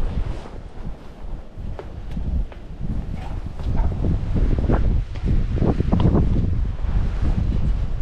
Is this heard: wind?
yes